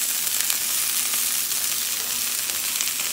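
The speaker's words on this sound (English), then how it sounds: "I'm just sauteing my peppers right now" Hot peppers, onion and zucchini saute in a pan for a small stir fry, giving a steady, close, even sizzle and crackle that runs unbroken through the whole stretch with no voices over it.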